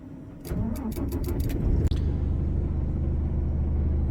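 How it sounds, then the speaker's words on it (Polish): A car engine starts up for a 12V in-car food warmer: a quick run of starter cranking clicks, then the engine catches and settles into a steady, close, low rumbling idle. "Oczywiście nie zapomnijmy włączyć samochód, bo duży pobór jest około 300 W."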